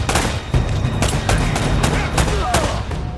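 Rapid blind gunfire in the video game Uncharted: Drake's Fortune, a loud close burst of repeated shots with sharp cracks continuing throughout, dense and unbroken, with no voice over it.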